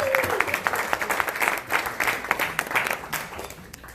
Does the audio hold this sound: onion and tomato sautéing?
no